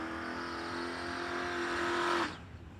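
Drag racing cars launch from the start line at a no-delay nationals event, a loud sustained engine roar building in pitch, then cutting off sharply as the cars pull away into the distance.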